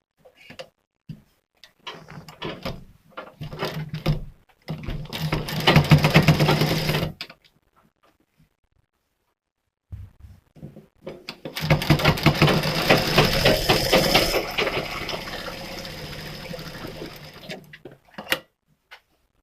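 A sewing machine stitches a katori cut blouse in two long bursts of rapid mechanical whirring, separated by a quiet pause and preceded by scattered clicks of handling.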